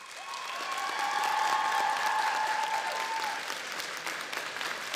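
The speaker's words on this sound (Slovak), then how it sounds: "Ja poprosím ešte jeden obrovský potlesk dozadu, aby to počuli." Sustained, dense applause from a large audience at the Bratislava fashion days show for new fashion designers, loud and steady with a slight fade toward the end.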